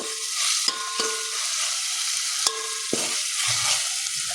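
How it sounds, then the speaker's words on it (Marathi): Masala rice ingredients roasting in a pan with stirring, a steady frying hiss broken by several sharp scrapes and knocks of a utensil against the pan, with no talk. "तर त्याला चांगलं भाजून घेते"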